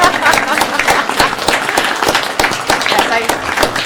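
Applause from the audience at a village board meeting, a loud, dense burst of clapping that carries on throughout, close to the microphone, with no clear cheering voices.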